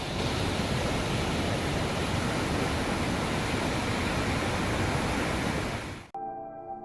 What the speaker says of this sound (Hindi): अब देखिए, गुरुद्वारे को पार करके यह नदी फिर से शोर डालने लगी।